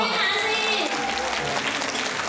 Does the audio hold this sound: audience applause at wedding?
yes